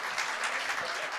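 Audience applause fills a church lecture hall during a youth-understanding seminar, with a brief burst of dense, steady clapping from many hands.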